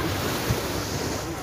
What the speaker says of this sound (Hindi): और ये देखो ये पानी का लहर देखो कैसा आ रहा है